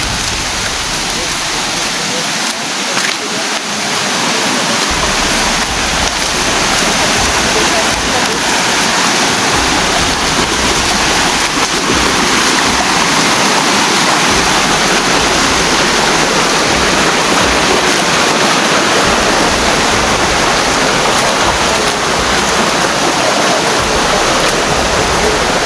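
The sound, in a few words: flowing creek water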